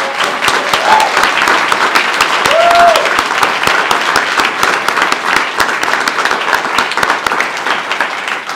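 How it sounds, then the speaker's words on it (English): Sustained audience applause at a festival gathering, dense and steady clapping from a large crowd for the full stretch, with a few brief whoops rising above it. "So let's give them a round of applause"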